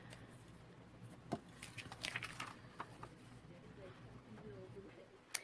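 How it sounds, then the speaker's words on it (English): Faint, sparse patter of light rain, with scattered soft drops ticking over a quiet, hushed background. "we're getting some more rain today. It's not hard rain."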